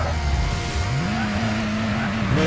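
A drag car in Gran Turismo 6 revs hard while its tires spin, the engine note climbing and holding in a steady whine over a continuous squealing, loud and close.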